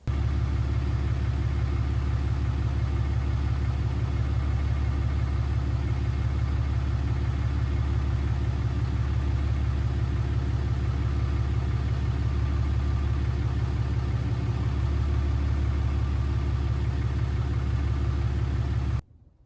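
A 2010–2018 Ram diesel pickup truck engine idles steadily, a loud, close, continuous low rumble with a regular fast knocking pulse, running alone until it cuts off at the very end.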